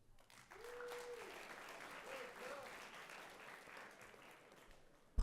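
Audience applause for head prefect candidates at a school speech event, a steady broadband patter of clapping sustained for about five seconds at moderate level, with a brief tone near the start.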